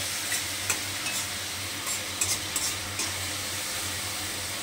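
Masala is stirred and sautéed in a pan for a vegetarian gathi kochu dum. A steady sizzle of frying spices runs throughout, with soft scraping strokes of the stirring spoon recurring irregularly. No one speaks.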